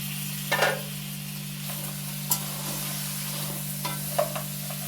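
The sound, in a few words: stirring crab roast frying in a pan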